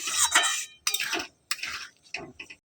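Spice paste with turmeric and chili powder is stirred in a pan, giving four or five distinct scraping strokes of a utensil against metal, close and fairly loud, with short silent gaps between them.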